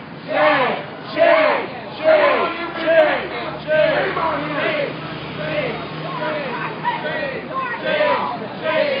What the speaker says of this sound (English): Crowd chanting shame at the feds.